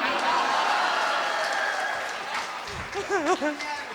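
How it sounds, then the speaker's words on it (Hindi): Crowd applause at a Hindi kavi sammelan poetry gathering, a broad wash of clapping that fades as a speaker's voice comes in near the end. "और अब तालियां तो इस बात पे"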